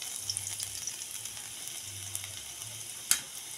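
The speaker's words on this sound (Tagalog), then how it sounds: "Pag medyo po mainit na yung mantika natin, ilagay po natin ang ating garlic" Garlic sizzles in hot cooking oil for a Filipino chopsuey, a steady bright crackling hiss close by, with a sharper clatter near the end.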